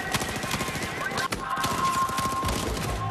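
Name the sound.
gunfire from video game Battlefield 4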